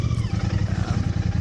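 A Royal Enfield Bear 650 motorcycle engine idling on dirt, a close, steady low throb with an even, rapid pulsing beat.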